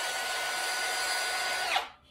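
A steady, high-pitched whirring of a power drill runs continuously, then winds down and stops near the end.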